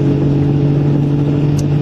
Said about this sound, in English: here's another car that looks exactly like mine coming the other way